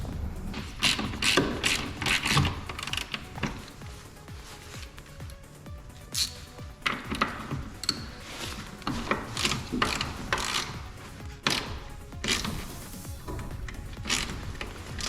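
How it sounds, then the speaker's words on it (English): A ratchet undoes the strut bolts on an Audi 5000 CS Turbo Quattro, giving close, repeated bursts of rapid clicking for the whole stretch with brief pauses between strokes. "the only thing I have to do to get it off now is undo, I believe it's these 3 bolts."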